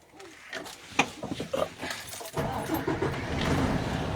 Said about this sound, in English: Go ahead and fire up the truck.